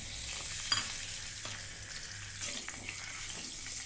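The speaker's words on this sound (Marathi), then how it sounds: "ती आपण आता परतायला कढईमध्ये टाकू" Salted bitter gourd dropped into hot oil in a wok, frying with a steady broadband sizzle and occasional stirring clinks, close and continuous without speech.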